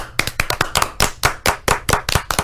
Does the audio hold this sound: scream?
no